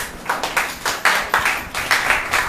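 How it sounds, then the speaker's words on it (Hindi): Church congregation at a Sunday service clapping along in a steady, rhythmic beat, about ten even claps close by with no talking over them. "चलो ताली बजाओ इन लोगों के लिए।"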